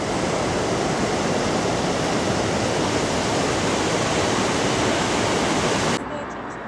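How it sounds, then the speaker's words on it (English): Water rushing over weirs on the River Mole, a steady loud roar of broadband noise close by that cuts to a quieter level near the end. "Over the River Mole again with its weirs"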